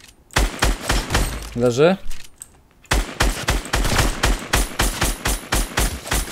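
Loud, close bursts of rapid gunfire in the Fortnite Battle Royale game, a string of sharp shots, a short pause with a brief voice and a rising whistling effect, then another fast volley of evenly spaced shots.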